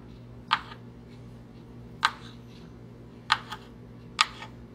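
A knife dicing food on a cutting board for breakfast burritos gives four sharp, isolated chops spaced about a second apart over a low, steady background hum.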